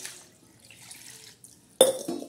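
Boiled bitter gourd being rinsed in cold water, faint trickling and splashing for most of the clip, then a louder burst of water and handling near the end.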